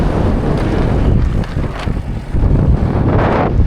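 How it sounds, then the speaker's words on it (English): Strong gusting wind on a dairy farm, a loud, rough buffeting roar hitting the microphone continuously with surges and dips throughout. "This wind sucks."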